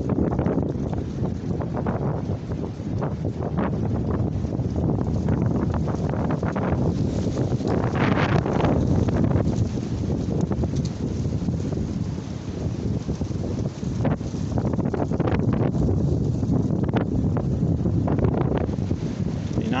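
Strong outdoor wind buffets the microphone during a hunt, a loud continuous low roar and rumble that surges and eases without break, with no voices over it.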